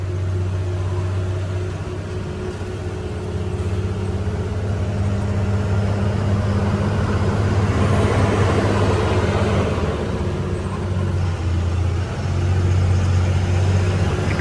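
A heavy truck engine labouring uphill in low gear on a jammed hill road near Lonavala: a loud, close, steady drone that swells in the middle and keeps going with no talk.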